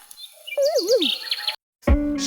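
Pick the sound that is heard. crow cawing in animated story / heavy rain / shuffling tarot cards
crow cawing in animated story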